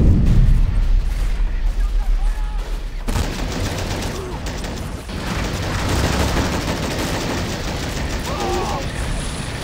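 Machine gun fire and explosions in the World War II strategy game Men of War: Assault Squad, a loud continuous roar of rapid bursts and booms, with players talking over it.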